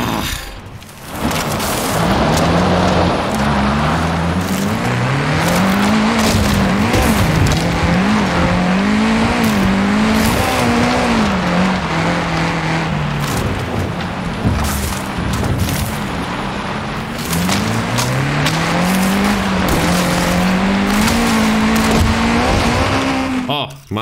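Off-road car in Forza Horizon 5, racing through jungle terrain: a loud, continuous engine roar rising and falling through gear changes, with tyre and gravel noise throughout.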